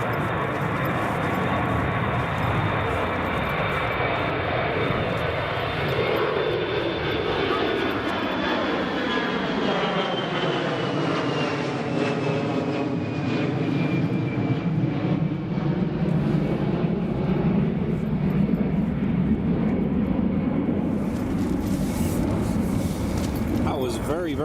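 A fixed-wing airliner lands at Newcastle Airport in a strong north crosswind during Storm Darragh, its engine roar loud and sustained with a descending whine, gusting wind throughout and people talking over it.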